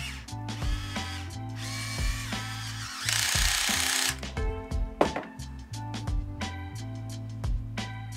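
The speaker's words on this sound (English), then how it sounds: "we'll tighten the screw all the way through" An M6 screw is driven through a DIY motorised camera slider mount, giving a close whirring power-driver buzz with ratcheting clicks and a brief harsher grinding burst, without talk.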